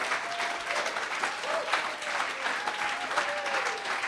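Steady audience applause fills the room after an Ignite Talks presentation in Chicago, a dense continuous patter of many hands clapping, with faint voices murmuring underneath.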